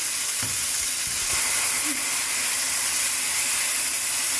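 Water splashes into chicken cooking in a pan for pizza-sauce pasta, raising a loud, sustained sizzling hiss of steam with a few soft clinks early on.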